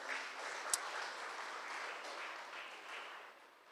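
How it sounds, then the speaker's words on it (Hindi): A Sunday evening Hindi church congregation claps to congratulate a family on a newborn daughter, a soft, even rush of many hands that thins slightly toward the end, with one brief sharp clap near the start. "तो क्यों ना हम लोग तालियों से उनका बधाई देते हैं"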